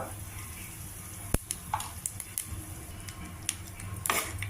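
Hot oil in a pan sizzling softly as a tempering of urad dal, cumin, mustard seeds, chillies and asafoetida fries, with a few light clinks and stirring taps over a low steady hiss.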